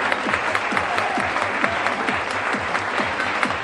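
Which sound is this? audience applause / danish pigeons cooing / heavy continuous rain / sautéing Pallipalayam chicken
audience applause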